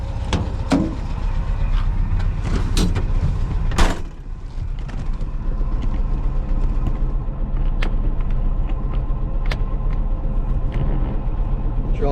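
A 1957 VW Beetle on a test drive gives a steady low engine and road rumble from inside the car, with a few knocks and clunks early on.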